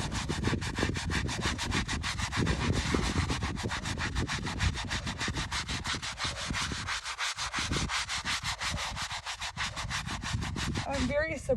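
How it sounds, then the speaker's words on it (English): A bristle brush scrubs the lettering on an old gravestone with rapid, rhythmic rasping strokes, loud and close, running continuously with brief pauses and a little breathing between strokes. "I'm very surprised at how hard you actually do have to scrub, and it's still really not going anywhere."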